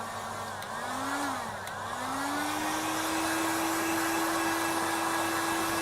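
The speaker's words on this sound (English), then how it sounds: "use the hot air gun now just to dry that off" A hot air gun blows steadily to dry airbrushed paint on a woodturned piece, a loud continuous whooshing hum that dips briefly in pitch near the start before settling into an even drone.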